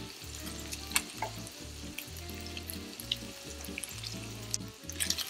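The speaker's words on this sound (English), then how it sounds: "we're going to fry it in a frying pan on high heat, and you're going to add just a little bit of butter" Bite-sized pork chunks fry in a little butter in a hot frying pan, giving a soft, steady sizzle with occasional clinks and scrapes. A low, pulsing hum runs underneath, and no one speaks.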